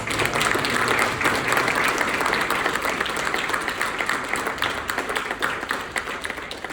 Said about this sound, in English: Let's give a round of applause to our candidates.